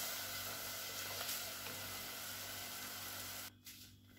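Sauce for a chicken blanquette is stirred continuously in a pan as cooking juices are added, giving a steady soft hissing bubble throughout that cuts off near the end, followed by a faint clink.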